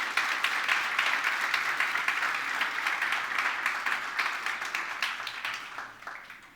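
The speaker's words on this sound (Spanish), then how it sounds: "¿Le regalan un fuerte aplauso a Dios por eso," A church congregation at a fifth-anniversary service gives strong, sustained applause with dense clapping that holds steady for several seconds before slowly tapering off near the end.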